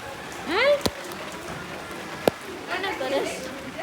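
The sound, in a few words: rain falling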